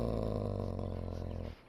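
A dog in the fantasy role-playing game Dragon Age: Origins gives a low, continuous rumbling growl up close that stops abruptly near the end.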